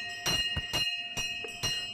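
A small hand bell rings in a steady, bright rhythm during a Hindu puja, with several clear strikes over a sustained metallic ring.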